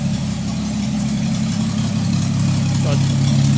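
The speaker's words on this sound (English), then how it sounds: "we're just obviously very loud because we're open exhaust off the back of the turbo" A rebuilt Lexus IS200 engine with a turbo idles loudly through an open exhaust dumped straight off the turbo, a steady deep drone that holds even and close throughout with a faint voice underneath.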